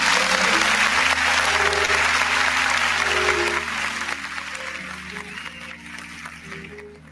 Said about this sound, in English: give yourself a round of applause for drinking water